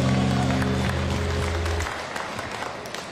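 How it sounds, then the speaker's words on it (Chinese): A crowd at a Taiwanese political campaign rally applauds President Tsai: loud clapping under a sustained tonal sound that cuts off partway through, leaving thinner clapping that fades toward the end. "给蔡总统掌声鼓励一下"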